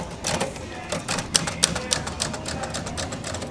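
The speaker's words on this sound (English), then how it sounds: "Old typewriter." An old typewriter being typed on in a shop, with a quick run of crisp key strikes and a few sharper carriage clacks, close and fairly steady, over low background chatter.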